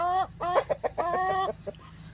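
Laying hens, including a Brahma hen, give a series of close, loud, tonal clucks and squawks in quick bursts, with brief pauses between calls and no one talking.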